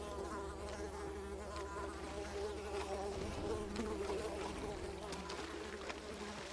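Mosquitoes in the video game Unravel give off a continuous, faint, thin whining buzz that holds steady throughout, with no words spoken.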